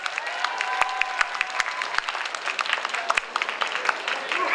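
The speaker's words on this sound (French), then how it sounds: "On peut l'applaudir bien fort, elle est première." A crowd applauds the first-place winner of an individual cosplay contest at a manga convention, a dense, steady patter of clapping with sharp individual claps and some voices mixed in.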